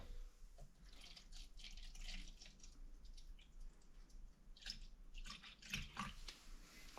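Windshield washer fluid poured into a measuring cup, a thin trickling, dripping stream with light splashes that rise and fall over several seconds, fairly quiet and close, with no talk.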